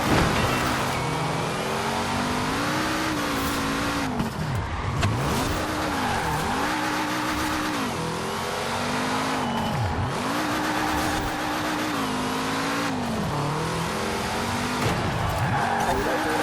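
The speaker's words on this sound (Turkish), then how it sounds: "Arabanın lastikleri çok kayıyor." Tires of a 1973 BMW 2002 Turbo squeal and skid in Forza Horizon 4, with repeated slides over a continuous engine drone that rises and falls with throttle, loud and steady for about sixteen seconds, no voices.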